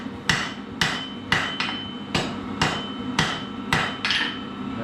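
Blacksmith's hammer striking hot iron on the anvil to set a forge weld: eight moderate, evenly spaced ringing blows, close and clear, with a faint steady hum of the forge between strikes.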